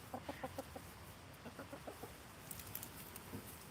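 Backyard chickens cluck in quick, soft bursts of short repeated notes, close but fairly quiet, with a brief higher squawk near the end and no talking.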